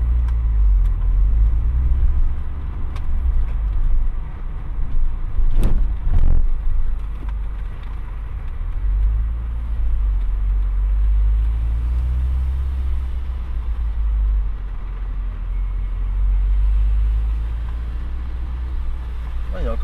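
A motorcyclist revs his bike somewhere in the distance, heard as a steady low engine rumble that swells and eases over about twenty seconds, with a couple of brief sharper noises near the middle.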